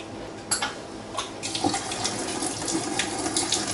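Boiling water runs from a tap dispenser through a tube while a stainless beer keg is cleaned, a steady close gushing flow with a few splashy bursts along the way.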